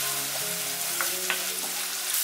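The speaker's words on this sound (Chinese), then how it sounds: "加入生抽、蚝油、少许胡椒粉，炒香" A savory filling with dried radish stir-fries in a hot pan with soy sauce, oyster sauce and pepper, giving a continuous loud sizzle with a few soft spatula scrapes.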